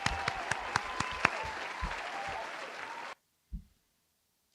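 Studio audience applauding steadily for about three seconds with a few sharper claps standing out, then cutting off abruptly into near silence.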